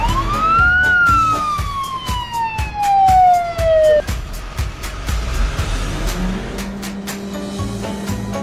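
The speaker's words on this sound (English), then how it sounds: "white color ambulance" White ambulance siren in a children's street vehicle cartoon, a loud wailing tone that rises and then sweeps down over about four seconds, backed by bouncy rhythmic music.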